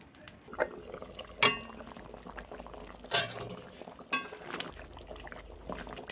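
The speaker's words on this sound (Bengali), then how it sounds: "এবার ঢাকনা চাপা দিয়ে আমি রান্না করব গ্যাসটা হাই আসে রেখে পুরো রান্না করবো আমি দশ মিনিট এভাবে ঢেকে" Mutton curry with potatoes simmers in a covered pot over a high gas flame, giving a steady close bubbling hiss broken by a few louder pops and lid knocks, with no voices.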